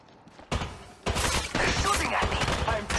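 Gunfire from Apex Legends Mobile erupts in bursts after a quiet start, with a sharp shot, then dense sustained volleys that stay loud and close to the end.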